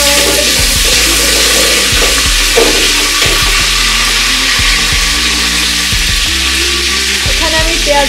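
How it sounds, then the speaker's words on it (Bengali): Bay leaf, cardamom and cinnamon sizzle in a tablespoon of hot oil for a beef and potato curry: a steady, loud frying hiss with scattered small pops and scrapes. "তেলটা গরম হয়ে আসলে এর ভিতরে আমি দিয়ে দিচ্ছি তেজপাতা, এলাচ, দারচিনি"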